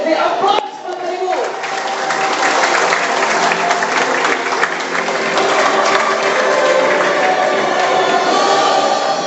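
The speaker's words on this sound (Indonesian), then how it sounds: "Di aplaus Bapak Ibu" An audience at a business presentation in Jakarta claps, sustained dense applause filling the room, loud and steady throughout, with a voice briefly heard over it at the start.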